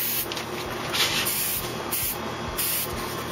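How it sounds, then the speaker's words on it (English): Bursts of aerosol spray hissing from a can, several short pulses of broadband hiss in a row, close and steady, with no talking, while installing a Nomex gasket on a Big Green Egg. "If you hold the can a certain way, it kind of directs it in a narrow spray."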